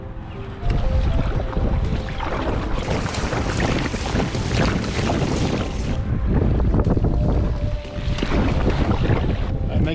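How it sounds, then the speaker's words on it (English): Strong wind buffets the microphone in loud, gusty roars on a bay, broken by short lulls, with water and boat noise mixed underneath. "still windy out there"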